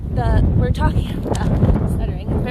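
Strong wind buffets the microphone in low, rumbling gusts by the water, heard under a person talking throughout.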